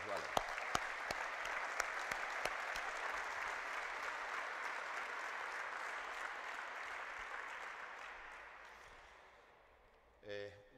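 An audience at a basketball coaching talk on pick-and-roll tactics breaks into sustained applause dedicated to a late colleague's memory and the organizers, dense clapping holding steady for about nine seconds before fading away, with a brief voice at the close.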